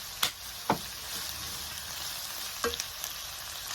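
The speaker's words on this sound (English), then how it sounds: "Saute this so it becomes nice and soft." Red and green cabbage with other vegetables sautéing in a pan for chicken chow mein, a steady close sizzle broken by a few sharp knocks of the spatula against the pan.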